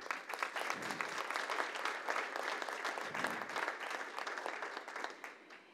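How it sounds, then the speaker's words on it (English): Sustained audience applause at a theater festival event in Independence, Kansas, a full, even patter of many hands clapping that tapers off at the very end. "can we all just take a minute and, I don't know, clap or something"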